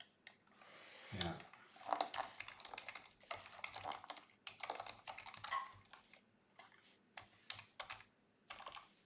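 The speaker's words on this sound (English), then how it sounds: "typing in chat while playing" Rapid typing on a computer keyboard while chatting during a game, irregular bursts of close, crisp key clicks with short pauses between them.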